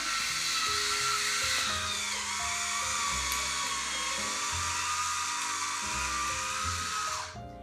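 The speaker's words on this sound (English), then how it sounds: "we prefer an electric corkscrew. It goes on top of the bottle." An electric corkscrew sitting on top of a wine bottle pulls the cork, a steady close motor whine lasting several seconds before cutting off, with no talking.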